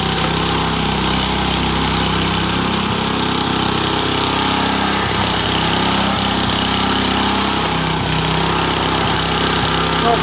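A Honda HRU216 lawn mower engine runs steadily with a loud, close drone that is not quite smooth. A faint voice sounds under it.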